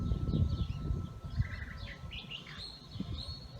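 Several birds chirp and call through a quiet desert morning in Tombstone, with scattered high tweets and trills over a soft low rumble of wind.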